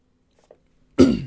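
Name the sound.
cough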